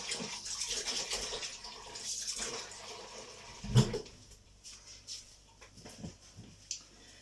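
Hands washed under a running kitchen tap, water splashing and rushing nearby for a few seconds before easing into scattered drips, rubs and small knocks.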